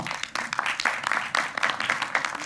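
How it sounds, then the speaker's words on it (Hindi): Enthusiastic applause from a crowd at a film trailer launch event, dense clapping that swells and dips over a couple of seconds. "जोरदार ताली होनी चाहिए।"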